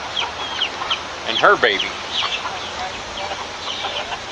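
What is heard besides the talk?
silkie hen and chick clucking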